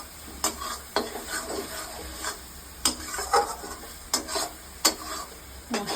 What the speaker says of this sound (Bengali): মশলাটা প্রায় কষানো হয়েই এসছে, একটু আর একটু বেশি করে তেলটা ছাড়া হয়ে গেলে মাটনটা দিয়ে দেবো